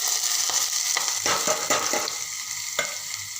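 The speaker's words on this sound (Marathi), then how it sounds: "आता मी बारीक चिरलेला आंबा बारीक चिरलेला मीडियम साईजचा कांदा व कांद्याची पात हे सर्व सोडून घेते" Chopped mango, onion and spring onion hit hot oil with cumin, a bright crackling sizzle with several scraping stirs and taps of a spoon, close and moderately quiet, no voices.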